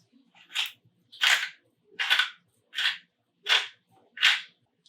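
Peppercorns ground into homemade tomato sauce with a hand grinder, six evenly spaced crunchy grinding bursts in a steady rhythm, close and clear with no talk.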